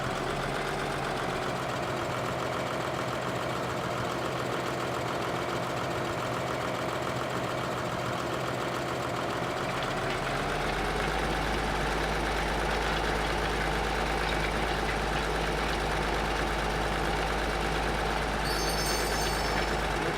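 A tractor engine idles steadily in Farming Simulator 2013, heard from the first-person cab view as a continuous low rumble that deepens partway through, with no talking.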